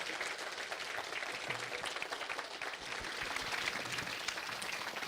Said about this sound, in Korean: 온 마음을 모아서 큰 격려와 감사의 박수를 부탁드리겠습니다